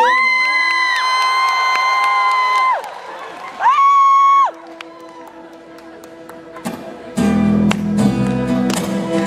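A concert audience at a performance during an Eslite music festival lets out high, sustained screams in bursts, then breaks into a loud, dense wave of cheering near the end.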